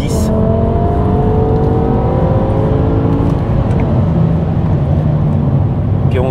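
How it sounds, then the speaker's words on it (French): A BMW M6 V10 engine revving under load, a loud, sustained mechanical roar with rising harmonic tones throughout the clip. "Puis ce bruit de V10."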